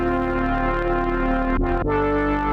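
A sustained, bright synthesized brass chord made in Phase Plant, with a rich buzzy tone and EQ gain boost, briefly dipping in the middle before swelling back, alone and fairly loud.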